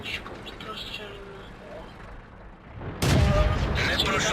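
A tank gun fires in the video game World of Tanks: one sudden, loud, heavy blast lands partway through, cutting in over quieter battle ambience and leaving a sustained booming rumble after it.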